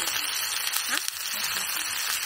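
Spicy cartilage sizzles in a hot pan during a camping cook-up, a steady bright hiss and crackle lasting a couple of seconds, with a voice talking faintly over it.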